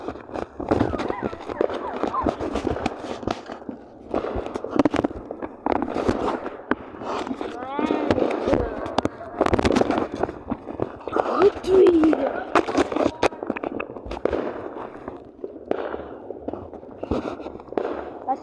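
Fireworks at an outdoor show burst repeatedly, a dense run of loud cracks and booms with irregular spacing, while people talk and exclaim throughout.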